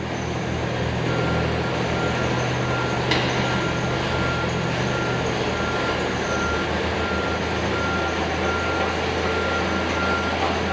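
A John Deere 850J dozer backing up, its reversing alarm beeping steadily over a loud continuous engine drone.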